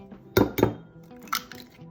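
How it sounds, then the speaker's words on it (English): Eggs cracked against a bowl while making Gambian drop doughnuts, two close sharp taps followed by a fainter third knock and light clinks, quiet between them. "I'm going to crack the eggs in there"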